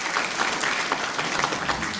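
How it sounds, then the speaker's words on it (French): An audience at the Fête du 20 Novembre in Levroux applauds the vocal group À Travers Chants with dense, steady clapping that fills the short moment without pause. "Voilà, on peut les applaudir."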